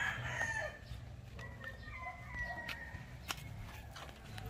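A Sweater Kelso gamefowl rooster crows faintly in an outdoor setting, with a drawn-out call rising over a low background hum and a few distant clucks.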